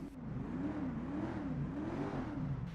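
Windsor Drop luxury car engine in GTA 5 Online, revving in a steady wavering drone that rises and falls rhythmically, moderately loud and close, with no talk.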